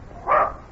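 A dog gives a single short, mid-pitched bark or yip, close and clear against a faint background hiss, with no talking.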